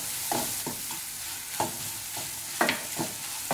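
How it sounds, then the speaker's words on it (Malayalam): Chilli and turmeric powders fry in oil for chicken pickle, a soft constant sizzle punctuated by several sharp spoon scrapes and clacks against the pan in an irregular stirring rhythm, close by and without talk. "നന്നായിട്ടൊന്ന് വഴറ്റിയെടുക്കാം."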